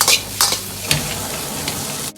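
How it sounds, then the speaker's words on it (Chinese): Shiitake mushroom chicken stir-fried in a wok: loud, close sizzling under a few quick scraping tosses of the spatula. "快速的翻炒几下，炒匀调料，炒出锅气，炒出香味。"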